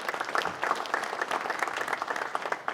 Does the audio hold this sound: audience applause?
yes